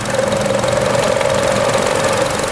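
A 2012 Chevy Cruze EcoTec engine idles, humming steadily up close with a fast, continuous rattling knock layered over it, unchanging for the whole stretch.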